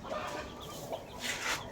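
Ducks and chicks at a rural Philippine farmyard cluck and chatter while being scattered feed, a dense close chorus of overlapping calls with a louder burst near the end, no talking.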